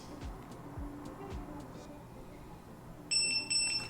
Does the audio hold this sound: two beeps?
yes